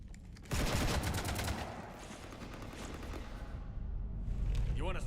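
Gunfire shooting up a ship in a video game: a sudden loud barrage of rapid shots and blasts that rumbles on, with voices speaking over the din.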